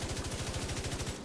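A Sleipner rifle in The Division 2 fires one continuous rapid burst to empty its magazine, evenly spaced shots merging into a dense, fast rattle that cuts off at the end.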